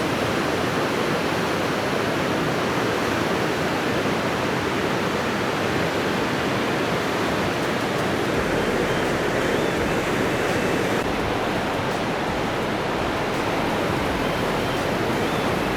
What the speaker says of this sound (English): And you can really hear the sound of this water, how strong the tide really is.